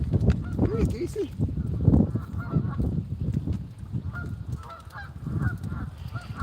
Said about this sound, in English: Come here, Geese.